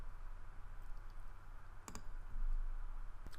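A few sharp computer mouse clicks, faint and fairly close, sound while navigating inspection software, with a low steady hum underneath and no talking.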